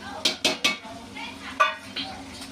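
Ginger garlic paste and green chili paste dropped into a pan for goat head and leg curry, three quick sharp clacks of a spoon followed by softer stirring and sizzling, close and fairly quiet.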